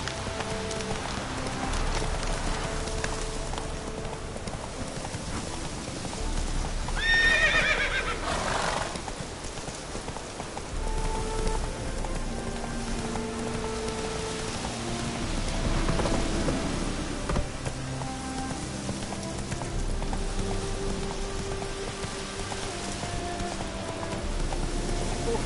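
Roach the horse clip-clops at a trot through rain in a video game, hooves drumming steadily over constant rainfall, with a whinny partway through and no talk.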